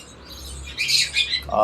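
Small cage birds at a small bird farm chirp in quick, high twittering bursts close by, with a brief louder call at the end.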